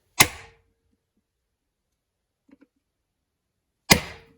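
Two sharp metallic hammer strikes on a bearing press tool during an idler wheel bearing replacement ring out, one at the start and one near the end as it bottoms out, separated by near silence and faint taps.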